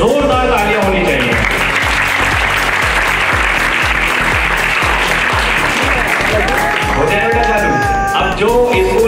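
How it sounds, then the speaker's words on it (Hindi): Loud, sustained applause from a talent-show audience at a slum talent contest, dense clapping mixed with crowd noise and shouts throughout, a voice rising over it near the end. "रिश्वत में जोरदार तालियां होनी चाहिए"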